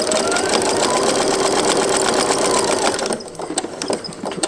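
A sewing machine stitching through a quilt of Vlieseline R80 wadding and two fabric layers, a steady loud mechanical whir at close range that slows and becomes uneven near the end.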